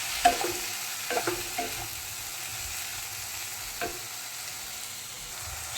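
Salt being stirred into food frying in a pan, a spoon scraping a few times over a steady sizzle that carries on alone.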